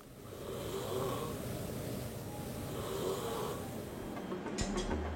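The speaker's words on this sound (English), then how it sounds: "even though somebody is snoring" Someone napping in a busy canteen snores in steady, rasping breaths under a low murmur of room noise, with a brief clatter near the end.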